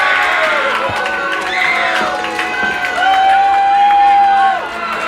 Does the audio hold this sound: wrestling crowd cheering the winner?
yes